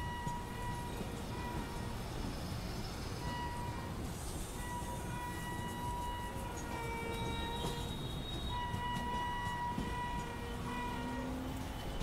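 A train passes on Central Railway tracks, a faint steady rumble of rolling wagons with intermittent tonal squeals and a distant horn-like tone, heard from a moving train without anyone speaking.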